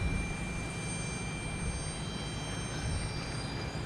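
An Airbus A321 jet airliner pulls in at Logan Airport, a close, steady engine drone with a constant high whine tone running unbroken across a few seconds.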